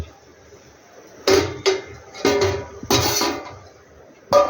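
A metal lid clanks onto a pot of curry in a few loud, close knocks and rattles, separated by short quiet gaps.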